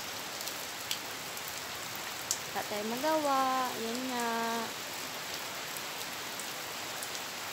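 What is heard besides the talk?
rain falling outside the house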